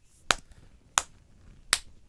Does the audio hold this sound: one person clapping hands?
yes